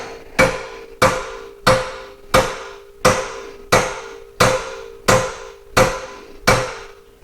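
A hammer striking a ball joint on a 1999-2004 Jeep Grand Cherokee WJ, ten sharp metallic blows at an even steady rhythm, each ringing briefly, close and loud.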